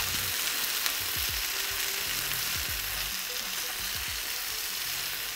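A fish stew with chicken broth cooks in a pan, giving a steady loud sizzle and bubbling with several soft scraping stirs spread through it, and no voices.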